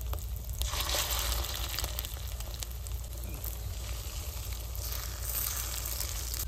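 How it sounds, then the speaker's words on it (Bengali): Fish roe fritters frying in hot oil, a steady close sizzle and crackle holding throughout with no talk. "অনেক ডিমের বড়া ভাজা দেখবে, আজকে এতগুলো ভাজবো ওই থালাটা ভরে যাবে"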